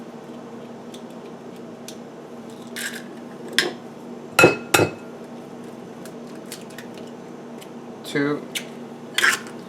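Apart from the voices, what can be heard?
eggs being cracked into a bowl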